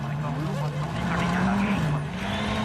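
A WRC rally car spins out on a stage at Rally de Portugal 2021, its engine droning and rising in pitch with tyre noise, loud and continuous over the whole stretch.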